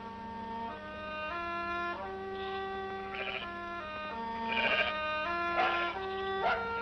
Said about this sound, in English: And now, sheep are returning to this English field